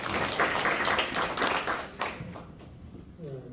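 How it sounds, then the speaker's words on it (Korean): An audience at a forum on air-powered generator development claps for a speaker being introduced: a dense burst of applause for about two seconds that thins and fades, with a voice starting to speak at the end. "네, 박수 한번 부탁드립니다."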